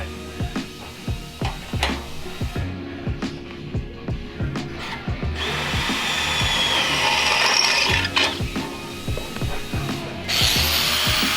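A drill bores a hole during a custom 13B rotary engine V-mount install in a workshop. It gives a steady, close whir with repeated ratcheting clicks, and the pitch rises and thickens midway as the bit works under load.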